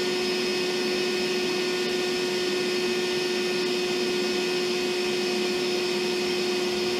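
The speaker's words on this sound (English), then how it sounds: "now let's do the same comparison with the Dewalt going" Dewalt 20V cordless shop vacuum running continuously: a loud, steady, close-up motor whine with a strong constant hum and airy rushing, unbroken for the whole stretch, with no talk.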